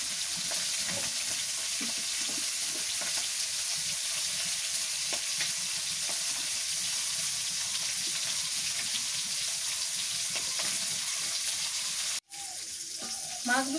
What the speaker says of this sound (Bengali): মাছগুলো ভাজা হয়ে গেছে, নামায়নি, সবগুলোই ভাজছি একদম কড়া করে।